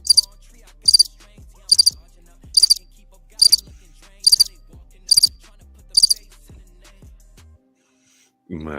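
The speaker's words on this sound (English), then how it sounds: "I got a soundbite for that. Hold up. We got those crickets." A cricket-chirping sound effect played as a soundbite, eight evenly spaced, crisp high trills repeating at a steady pace and cut off at the end, with a voice starting just after.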